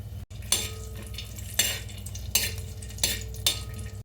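Raisins and cashews fry in ghee for semiya payasam, a steady close sizzle broken by four or five sharp scraping stirs of a spoon against the pan, with no voices.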